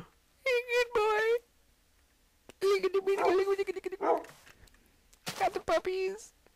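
Dogs in the Minecraft video game bark and yip in three short bursts of several quick calls each, close and clear, separated by near silence.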